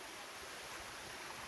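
Water from Lagoon Falls pours steadily in a dense, continuous rush that stays even throughout, with no voices.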